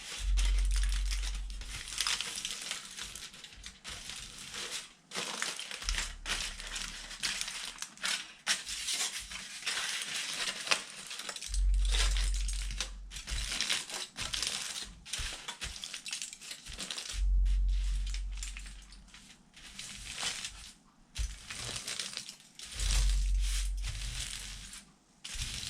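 Aluminum foil being crumpled and scrunched by hand for a foil pour canvas, close crackling crinkles in repeated bursts with brief pauses between handfuls.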